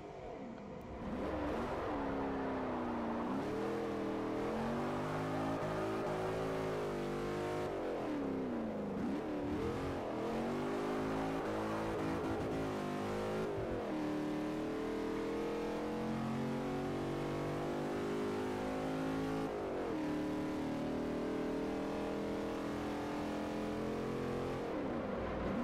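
A Dodge Challenger's engine roars and revs continuously during drifting in Forza Motorsport 4, the pitch rising and falling with shifts and throttle changes, loud and with no talk.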